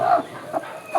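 A hen set on a clutch of twelve eggs for brooding gives three short, close clucks, a strong one, then a softer one and another at the end, with a quiet pause between each.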